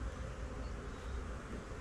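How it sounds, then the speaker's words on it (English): Nurse honeybees buzzing over a brood frame in a hive, a dense continuous drone of many wings close by, steady and unbroken. "nurse bees and a frame of brood"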